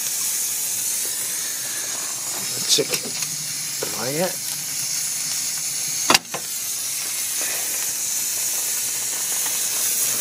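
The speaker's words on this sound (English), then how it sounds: "First steam generated." Steam hisses steadily from a boat boiler with a Southworth 12 feed pump on a first steam test, a constant bright hiss under a few short mechanical clanks and a sharp knock, with a person speaking briefly.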